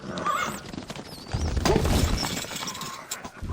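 In the Stronghold Crusader strategy game, a horse whinnies amid clattering hooves and a sharp crash, set among busy battle effects at moderate loudness.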